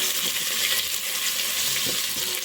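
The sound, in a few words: frying mint and coriander in oil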